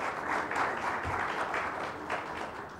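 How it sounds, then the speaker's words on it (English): Brief, muffled round of applause from an audience at a chemicals industry website launch event, a soft wash of clapping lasting under three seconds. "A round of applause for Adnan, please"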